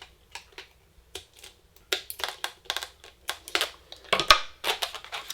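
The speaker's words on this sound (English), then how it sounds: "Cut off both ends, and my scissors are right here." Sharp scissors snip and crunch through balloon ends in a rapid, close, irregular series of crisp cuts with no talking.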